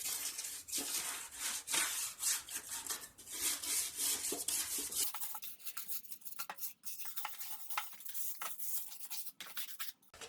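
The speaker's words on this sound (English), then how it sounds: "This is a stiff wire brush. I'm going to get as much of that dried stuck on grass off the deck as possible." Stiff wire brush scrubbing dried, stuck-on grass off the deck of a 2003 Craftsman M110 mower: rapid, continuous bristle scraping strokes, loud and close, with no talk.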